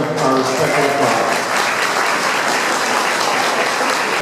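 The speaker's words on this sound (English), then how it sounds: "May we give him one more round of our respectful applause" Audience round of applause at a charity event for Nepal earthquake victims, a dense, loud, continuous clapping that holds steady, with a brief voice at the start.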